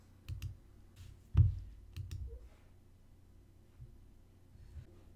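Faint, sharp computer mouse clicks sound on a desktop, several scattered singly and in quick pairs over a quiet background.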